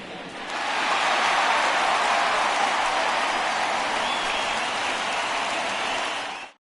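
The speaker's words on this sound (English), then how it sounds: "So he receives a nice ovation from this home crowd" A home crowd in a baseball video game gives a sustained ovation: dense, steady applause and roar holding at an even level for several seconds, then cutting off abruptly, with no talk over it.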